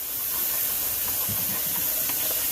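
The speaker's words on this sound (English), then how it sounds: "We're gonna add some sauce there, and then we're gonna steam it down a little bit" Sauce hits a hot pan of Jamaican-style chicken and vegetable stir fry and steams, a steady loud sizzling hiss with faint crackles running the whole time.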